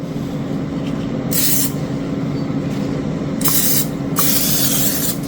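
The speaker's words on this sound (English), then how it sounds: "Oh, we're going to do some more spray." Several bursts of hissing aerosol cooking oil spray, one short and two longer, over a constant background hum, with no talking, while making air fryer bean taquitos.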